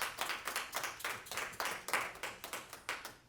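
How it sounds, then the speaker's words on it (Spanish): A church congregation applauds the choir at Mass, a steady run of fairly faint, evenly spaced claps heard from some distance. "Un aplauso bien fuerte para este ministerio."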